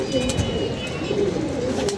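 A domestic pigeon coos softly and repeatedly close by, a low rhythmic murmur running through the whole moment with faint background noise.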